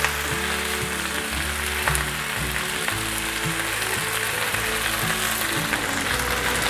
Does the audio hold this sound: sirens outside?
no